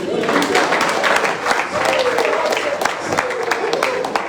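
A church audience claps during a talk on marriage, scattered hand claps mixed with voices and murmuring from the crowd.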